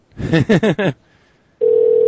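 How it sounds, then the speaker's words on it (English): A call-in radio show phone line, first with a few short clipped bursts of voice or signal, then a brief quiet gap and a steady continuous ringback tone that keeps going to the end. "I'm getting the ringing on the air"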